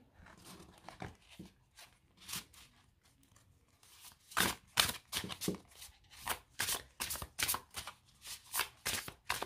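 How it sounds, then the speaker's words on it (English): Tarot cards being shuffled close up, a series of crisp riffling bursts that grow louder and more rhythmic in the second half, with no talking. "so let's give these cards a shuffle."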